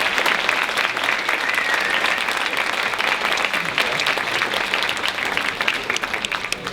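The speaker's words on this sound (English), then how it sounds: "So can I give one more time applause for all the parents in the audience" Sustained applause from a pageant audience honoring the parents, dense steady clapping throughout with a faint voice or cheer briefly rising above it.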